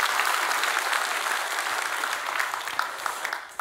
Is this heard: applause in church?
yes